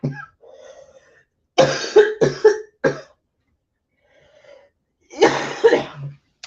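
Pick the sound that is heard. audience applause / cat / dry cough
dry cough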